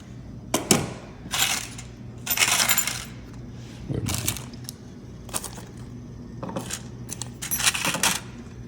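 A small metal washer handled near a laptop trolley bag's wheel axle gives a series of light, bright metallic clinks and jingles, close up, in separate bursts with brief pauses and no talking.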